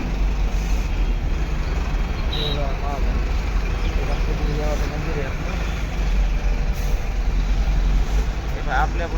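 A 14-wheeler truck and other vehicles crawl in a heavy traffic jam in Ranjangaon near Pune on a festival day, with a low continuous engine rumble and passing traffic noise under nearby voices.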